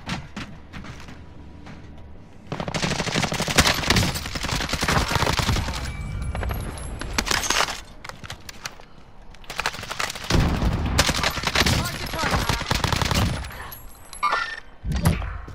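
AMAX rifle fire in Warzone: loud bursts of rapid automatic gunshots come in several long volleys with short quiet gaps, alongside distant shots and game effects.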